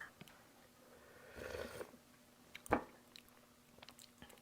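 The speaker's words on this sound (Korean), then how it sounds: "제가 한번 먼저 국물 맛을 볼게요." Someone tasting warm rosé tteokbokki broth, with a soft slurp followed by a brief sharp mouth sound and light chewing, close and very quiet.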